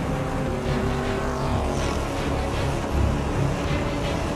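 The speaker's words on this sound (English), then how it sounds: "l'Audi qui mène la course arrive à hauteur de la Peugeot la plus lente" Audi and Peugeot prototype race cars at Le Mans roar past in a continuous loud engine drone, with layered revving and a swelling pass near the end.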